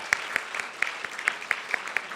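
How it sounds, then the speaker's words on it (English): An audience at the Pulitzer Center's 10th anniversary event applauds for Fareed. The claps are fairly light and scattered, with a few louder individual claps standing out over a steady patter that lasts throughout. "We should absolutely applaud Fareed."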